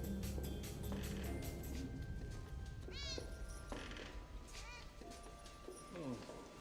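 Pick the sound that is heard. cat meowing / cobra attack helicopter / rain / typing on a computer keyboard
cat meowing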